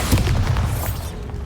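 A Bombarda spell detonates in Hogwarts Legacy, a deep booming blast with a rumbling tail that fades over about a second.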